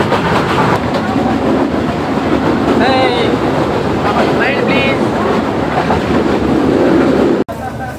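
Train pulling into Rajshahi railway station, a loud, steady rumble of rolling stock and rail noise with brief squealing tones, ending in a sudden cutoff near the end.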